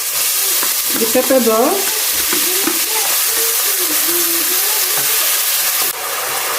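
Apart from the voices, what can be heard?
spring onions and carrot frying in hot oil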